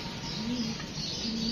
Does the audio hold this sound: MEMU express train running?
no